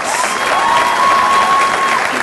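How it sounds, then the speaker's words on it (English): Graduates of the class of 2015 applaud themselves during a keynote graduation speech, a continuous wash of clapping from a large audience heard close and loud throughout. "Give yourself a round of applause."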